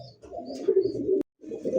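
A Milibar pigeon, a fancy breed with a pot-shaped throat, coos in a steady, fairly loud rolling call that runs for about a second, breaks off abruptly, then resumes close to the listener.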